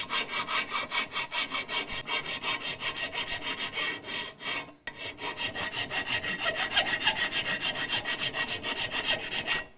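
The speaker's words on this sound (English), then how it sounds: "Just take a file, hit it with the sander, get it close, and then work it with the file." A hand file works an aluminum wheel to smooth curb rash, making steady, rhythmic rasping strokes up close, with one brief pause midway before the strokes resume.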